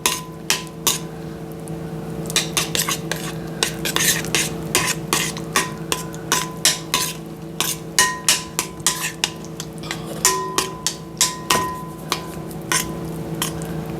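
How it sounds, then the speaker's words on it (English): Pumpkin pie filling stirred in a bowl, a spoon or whisk knocking and scraping against the sides in a quick repeating rhythm of sharp clinks, close and distinct. "All right, so we're going to stir this together."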